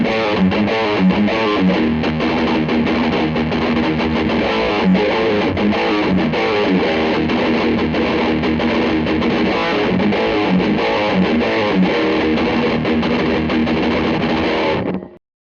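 Electric guitar played through a Tortuga Effects Death Adder distortion pedal gives a loud, thick, heavily distorted metal tone, with chugging riffs and sustained chords running steadily for about fifteen seconds before cutting off abruptly.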